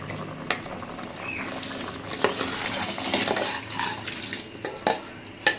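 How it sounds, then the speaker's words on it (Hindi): Rice goes into a pot of boiling water, giving a steady bubbling hiss broken by a few sharp clinks and scrapes of utensils against the pot. "चावल मैंने इसमें डाल दिए हैं"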